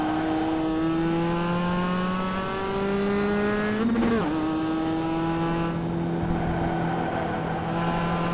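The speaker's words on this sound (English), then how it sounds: "we are driving the Mazda MX-5 Cup cars" A Mazda MX-5 Cup race car in the iRacing sim, lapping the Okayama circuit, holds a loud, steady engine drone that rises through the revs, with a sharp shift and dip near the middle before climbing again.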